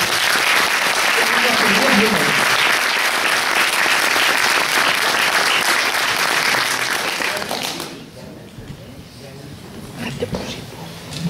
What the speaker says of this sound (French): Je vous demande d'applaudir les musiciens, d'applaudir la troupe.